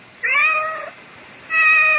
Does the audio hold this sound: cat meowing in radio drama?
yes